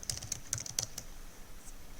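Someone types a word on a computer keyboard: a quick, quiet burst of about half a dozen light key clicks in the first second, then near silence, with no voices.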